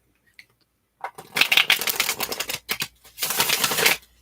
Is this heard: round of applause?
no